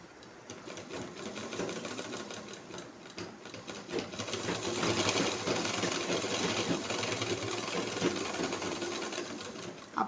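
A domestic sewing machine stitching fabric runs with a steady, close, fast mechanical whir and ticking that holds continuously and grows slightly louder midway, with no talking.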